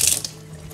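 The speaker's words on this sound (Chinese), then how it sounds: "再来是洗蘑菇" Running tap water splashes briefly over mushrooms being washed in a sink, a short close rush of water that fades quickly into quiet.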